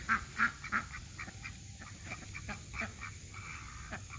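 Ducks quacking in short, fairly close bursts, strongest early on and then scattered and softer, with a steady hum in the background.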